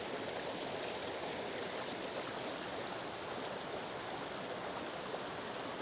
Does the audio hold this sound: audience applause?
no